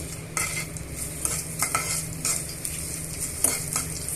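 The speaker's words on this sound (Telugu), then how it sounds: "ఈ పోపు దినుసులు వెల్లిమిరపకాయలు వెల్లుల్లిపాయలు అన్నీ కూడా బాగా వేయించేసుకోవాలి" Hot oil sizzling as a spoon repeatedly scrapes and stirs the pan of tempering spices, dried red chillies and garlic, a series of short clinks and scrapes over the steady frying hiss.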